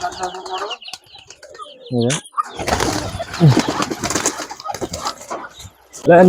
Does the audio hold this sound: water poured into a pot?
no